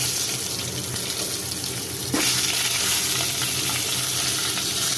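Onion, coriander, mint, ginger, garlic and green chillies fry in oil, making a loud, continuous hiss that rises suddenly as they hit the pan and then holds steady.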